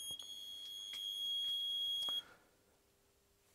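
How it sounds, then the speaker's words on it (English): A Philips Medio X-ray 50 kW CP-H control desk sounds its malfunction warning buzzer, a loud, steady high-pitched electronic tone with harmonics that runs for about two seconds and then cuts off abruptly, leaving faint background hiss. "this has an incredible loud buzzer, because it actually has to warn you about a malfunction in the control panel"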